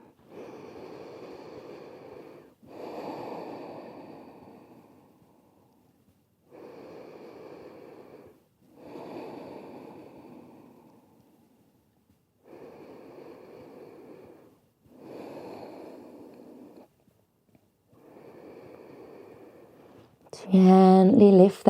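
Slow, audible breaths from someone resting their forehead on their hands in a yoga pose: soft inhales and exhales in an even rhythm, with a brief different sound at the very end.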